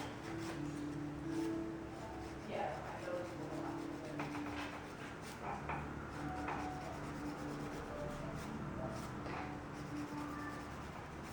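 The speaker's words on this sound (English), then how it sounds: "I'm going to use the rougher side of my file" The rough side of a nail file is drawn across the corner of a fingernail in repeated short strokes, making a soft, close, faint scratching rasp with no talking.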